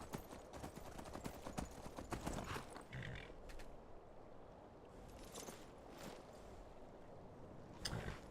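A horse gallops in the Skyrim video game, hooves beating in a fast, even clip-clop that runs the whole stretch, with a brief whinny-like call partway through and no talking.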